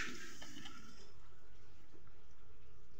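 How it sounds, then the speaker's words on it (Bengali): Rose water poured into a chicken dish, a brief trickling splash in the first second that quickly fades to quiet room tone. "গোলাপ জল, এটা গোলাপ জল একটু দেবো"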